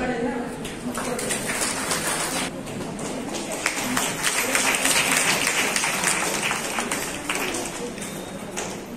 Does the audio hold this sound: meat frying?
no